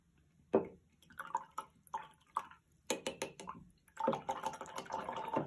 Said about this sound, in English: Really swish it to get that paint off.